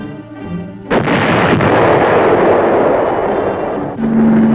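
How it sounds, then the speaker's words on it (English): Tanks firing their guns along Vietnam War roadways in armored cavalry footage: a loud, close cannon blast erupts with a long rolling rumble, followed by another heavy boom near the end. "Tanks were used to keep the roads open at strategic points, firing to keep the enemy off balance."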